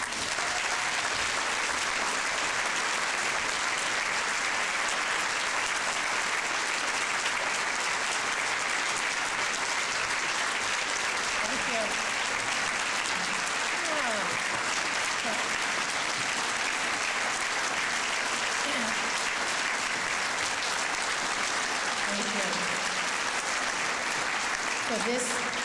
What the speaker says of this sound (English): So this applause is for Tara